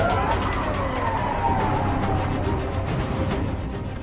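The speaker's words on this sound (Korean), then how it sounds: "그런데 이때 사이렌 소리." A siren wails from a distance, its tone sliding faintly beneath steady traffic and road rumble in a Seoul riverside setting.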